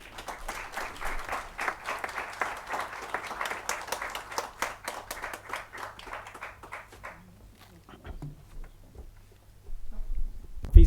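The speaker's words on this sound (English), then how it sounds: "let us call upon architect Suresh Babu with the heartiest round of applause" A round of applause from an audience greeting an architect at a ceremony, with dense, steady clapping for about seven seconds that thins into a few scattered claps before fading into quiet room noise.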